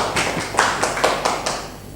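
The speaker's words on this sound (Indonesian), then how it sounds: "tepuk tangan dulu untuk kita semua" A small class clapping at the end of a microteaching lesson in a classroom, a sparse handful of sharp, irregular claps that fade out quickly.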